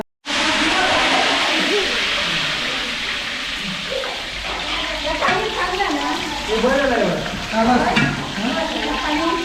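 Masala and oil frying in a pan for a traditional Konkan wedding feast, a steady loud sizzle with stirring clatter throughout and faint voices murmuring in the background.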